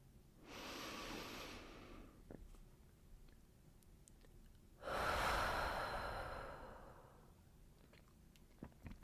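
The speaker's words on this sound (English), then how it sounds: "see if you can take a moment to take a big, deep breath with me" Two slow, deep breaths taken during a guided breathing exercise: a long airy inhale and a long exhale, each a few seconds, close and clearly audible with quiet pauses around them.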